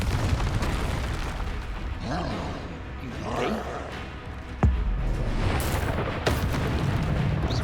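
A Confringo spell explodes in Hogwarts Legacy as a sharp burst with a deep boom among ongoing rumbling combat effects, with a voice heard in the mix.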